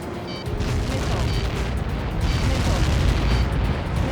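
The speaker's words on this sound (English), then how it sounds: "How many got caught in that explosion?" In the Ace Combat 7 video game, a Helios projectile impact sets off a sustained, rumbling explosion with deep roaring noise that swells and rolls on without a break, while a voice speaks faintly over it.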